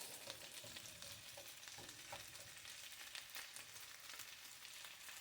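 Onions fry in a pan with a dense, continuous sizzle and crackle throughout, close and fairly even, with no voices.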